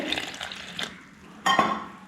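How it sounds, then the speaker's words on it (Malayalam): Water poured bit by bit into flour for dough, two short splashing pours separated by a quiet pause, close and fairly soft. "ഇനി ഇതാ അതിലേക്ക് വെള്ളം ഒഴിക്കുക കുറേച്ച് കുറേച്ച് ഒഴിച്ച്"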